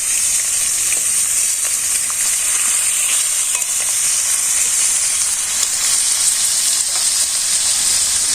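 Fish frying in a pan: a loud, continuous sizzle and hiss of hot oil that stays even throughout, close up, with no talk.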